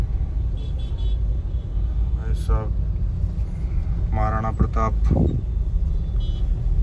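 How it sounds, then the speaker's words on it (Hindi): Street traffic during Diwali in India, with car engines rumbling and several short horn toots over a steady road noise, while people talk nearby. "थोड़ा ट्रैफिक और क्रिएट हो रहा है वहाँ।"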